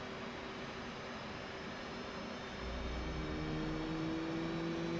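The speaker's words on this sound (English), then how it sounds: "Now it is time to crank the left engine." The left jet engine of an F/A-18C Hornet in DCS World spools up during a cold start with a steady, high whine and layered tones, then a deep rumble swells in partway through and holds. No voices.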